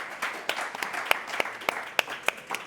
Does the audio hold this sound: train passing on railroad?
no